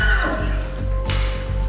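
A horse herd in an indoor arena, with a loud whinny near the start and low snorts and rumbling that continue through a short burst, over steady background noise.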